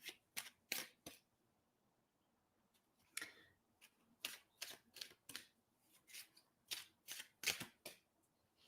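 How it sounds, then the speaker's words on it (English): Reading cards are shuffled in a string of quick riffling bursts, some rapid and clustered, others spaced out, close by in a quiet room. "Sorry for all the shuffling."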